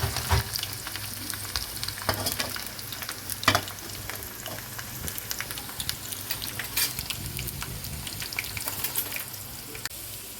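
Ivy gourds deep-fry in hot oil with a crackling, bubbling sizzle that stays fairly close and uneven. Several sharp pops and spatters stand out over about ten seconds.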